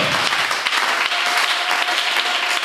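Worshippers in a church crowd clap and cheer in praise of the Lord, a thick, sustained roar of applause at close range, loud and unbroken from start to finish.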